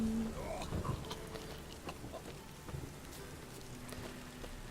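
Steady rain from a storm in The Witcher 3 patters on surfaces, with low rumbles and faint scattered sounds beneath a constant wet hiss.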